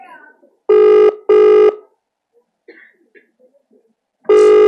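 Telephone ringing in an indoor lecture setting: three loud, electronic rings, two close together and a third after a pause of quiet room noise and faint movement.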